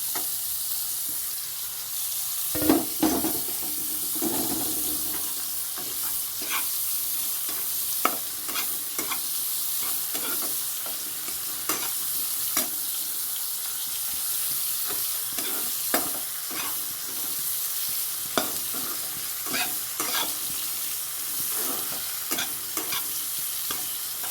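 Steady sizzling of pointed gourd seeds frying in a pan, with repeated scraping and stirring strokes throughout, no voices.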